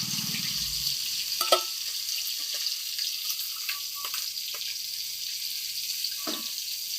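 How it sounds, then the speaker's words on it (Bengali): Stingray fish sizzles steadily in hot oil in a wok, a loud continuous hiss of frying with a few soft knocks and scrapes of a utensil. "আমার মাছটা কিন্তু ভালোভাবে ভাজা হয়ে গিয়েছে"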